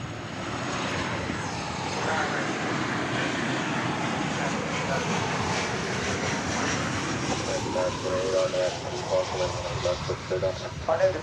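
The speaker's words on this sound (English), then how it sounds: "So this is ABX Air Flight 2000 going to Cincinnati." A 1983 ABX Air airliner, Flight 2000 bound for Cincinnati, roars steadily at DFW Airport, a loud continuous engine wash from a fair distance, with a faint rising whine near the end and voices talking over it.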